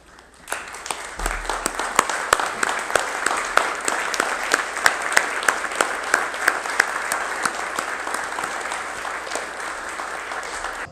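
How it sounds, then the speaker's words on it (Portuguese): Sustained applause from a standing audience at a formal ceremony of Brazilians and Americans in the Recife city council chamber, dense steady clapping with sharp individual claps standing out, filling the room for about eleven seconds. "eu gostaria de todos vocês aqui ficassem de pé para um forte aplauso"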